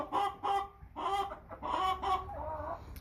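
American Bresse chickens cluck close by in a short run of rhythmic, nasal calls with brief pauses between them, heard alone without talk.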